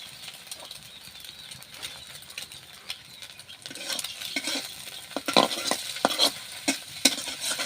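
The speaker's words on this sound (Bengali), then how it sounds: "আমার ডিম ভাজা এখন শেষ" Eggs fry in a pan with a soft sizzle and scraping stirs, the crackle and clatter growing busier and louder in the second half, close up with no voices.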